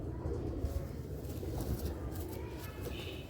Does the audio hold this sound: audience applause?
no